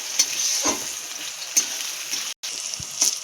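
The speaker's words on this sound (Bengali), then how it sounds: "দেখো বেগুনটা কিন্তু অল্প অল্প ভাজা হয়ে গেছে" Eggplant fries in a pan with a steady, moderate sizzle, broken by a few spatula scrapes and a brief dropout.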